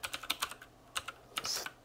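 Quick, light keystrokes on a computer keyboard, about a dozen irregular taps, close and fairly quiet.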